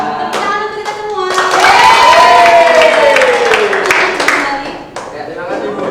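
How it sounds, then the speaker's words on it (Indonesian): Classroom of junior high students clapping together during a social studies lesson, loud and close, with voices singing or chanting over the clapping throughout. "Tepuk tangan untuk kita semua."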